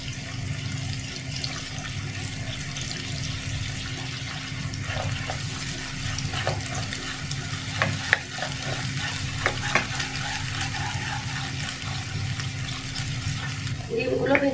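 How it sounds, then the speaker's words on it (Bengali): Eggs scrambling in a hot pan for chicken fried rice, a continuous close sizzle with frequent light scrapes and taps of a spatula stirring them bit by bit. "গরম হয়ে আসার পরে ডিম এভাবে দিতে হবে আর একটু একটু করে নাড়তে হবে"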